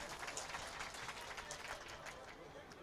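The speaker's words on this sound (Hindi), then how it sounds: "एक बार इनके समर्थन में ताली बजा दी" Faint audience clapping at a mushaira poetry gathering, a quiet continuous patter of many hands heard from a distance with a low murmur beneath.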